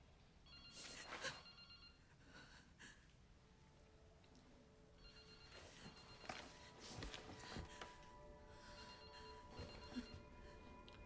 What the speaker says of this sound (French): Oui, Grace, c'est un téléphone